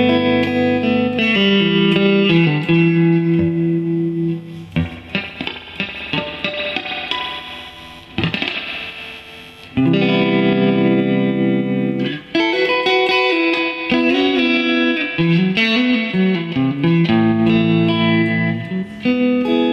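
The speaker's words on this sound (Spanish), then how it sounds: "montón de reverb, muy dulce también, muy hermosa" Electric guitar played through a 1976 Fender Deluxe Reverb silverface amp with heavy reverb: sustained chords and melodic lines, loud and close, with short pauses and lingering reverb tails, no voices.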